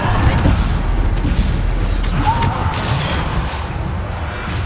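A Bombarda blasting spell explodes in Hogwarts Legacy, a loud booming crash with a whooshing burst that rolls into a sustained rumbling roar and slowly fades.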